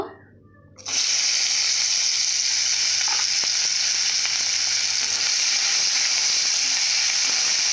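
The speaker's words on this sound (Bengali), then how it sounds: "এরপর মাছ ভাজা কড়াতে আমি পেঁয়াজ দেব।" After a brief quiet moment, a sudden burst of loud sizzling as onion hits hot oil left from frying fish in a kadai, then a steady close crackle continuing.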